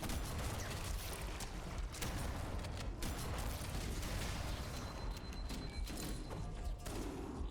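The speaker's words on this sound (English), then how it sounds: "Yep, I got hit by a shotgun." Rapid bursts of shotgun fire and explosive booms in Halo: Combat Evolved, loud and continuous, layered over constant battle noise with no pauses.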